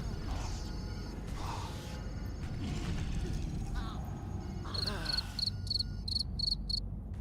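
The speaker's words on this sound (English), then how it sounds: "The crickets." Rhythmic cricket chirps from the video game Star Wars: The Old Republic pulse in evenly spaced bursts, over game effects and steady background noise, with voices talking earlier.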